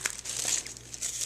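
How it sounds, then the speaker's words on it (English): Close, soft crinkling and rustling of tissue paper being folded into layers for a paper flower, a continuous dry crackle with a few sharper crumples, no talk. "I'm just going to go ahead and fold it over again."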